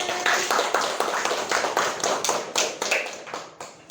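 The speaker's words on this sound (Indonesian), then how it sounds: "Terima kasih, tepuk tangan." Classroom applause from a group of students, moderately close, with individual claps audible in a loose, uneven rhythm that gradually thins out and grows more scattered.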